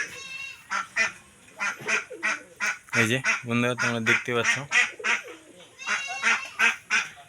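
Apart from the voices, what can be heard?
ducks quacking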